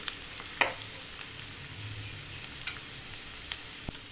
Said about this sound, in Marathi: कलर चेंज झाला आपला कांद्याचा थोडे परतून घेऊया त्याला अजून